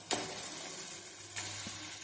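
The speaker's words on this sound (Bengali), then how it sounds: "সাদা তেল দিয়ে ম্যারিনেট করা মাংসটা দিয়ে একটু ভালো করে ভাজা ভাজা করে নেব" Marinated chicken sizzles in white oil over a high flame, a steady close hiss punctuated by a couple of stirring scrapes, with no one talking.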